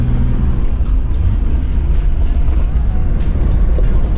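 A Nissan Patrol Y60 four-by-four rolls along a dirt track, its steady engine drone and heavy low rumble constant and loud from inside the cab, with occasional rattles and bumps over the uneven ground.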